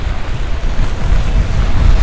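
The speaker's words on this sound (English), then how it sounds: "Ooh, the wind" Strong winter storm wind in New York City roars and buffets the microphone with a loud, rumbling, gusty rush and no voices.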